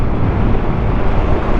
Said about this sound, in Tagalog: lakas talaga ng hangin